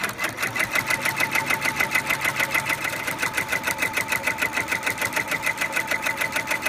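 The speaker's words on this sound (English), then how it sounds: "if you can, slow your machine way down. So this is going to seem super slow" An embroidery sewing machine, slowed way down, stitches an in-the-hoop pocket with a steady, evenly paced mechanical chatter, close and clear with no talk over it.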